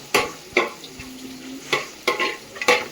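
Onions frying in a pan for a Kerala home-style curry, with a steady soft sizzle broken by several sharp scraping strokes of a spoon against the pan, close and clear with no talking.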